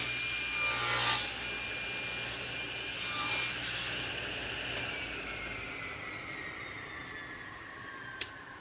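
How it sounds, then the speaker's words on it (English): A hand saw cuts through a piece of wood in a West African woodworking challenge, with a few loud rasping strokes early on, then a steady grinding cut that fades a little, ending in a sharp click. "this is why I'm cutting off this portion of this wood"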